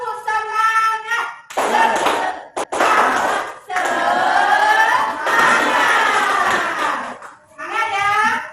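Schoolchildren in a classroom chant a rhythmic group cheer in unison, voices loud and close, punctuated by sharp bursts of clapping between the shouted phrases, with the whole class joining in.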